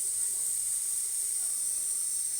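Oil sizzles in a pan on a stove while chana masala is being made. The hiss is steady and bright, continuous and fairly close, with no break.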